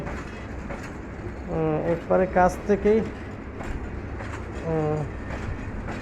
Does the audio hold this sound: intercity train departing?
yes